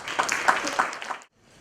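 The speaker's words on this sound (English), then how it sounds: "Ladies and gentlemen, a big round of applause please to Mr." Brief burst of conference audience applause for a speaker, a short patter of claps lasting about a second before cutting off to near silence.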